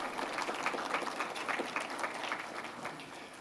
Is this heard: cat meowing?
no